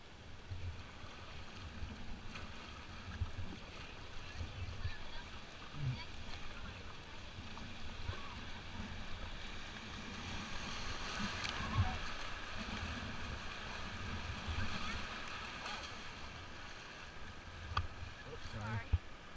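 Water sloshing and gentle splashing from a small boat moving along a river, with faint voices and steady flowing-water noise throughout.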